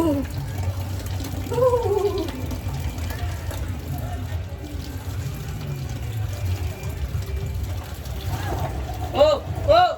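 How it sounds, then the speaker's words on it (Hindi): Water runs steadily for filling water balloons at a Holi celebration, a continuous splashing rush under people talking and a few higher-pitched vocal bursts. "मैं पानी भर लेता हूँ"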